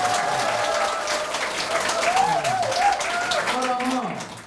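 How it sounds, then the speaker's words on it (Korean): Crowd applause at a mayoral candidate's campaign office opening, a continuous wash of clapping throughout while someone speaks over it. "예, 박수!"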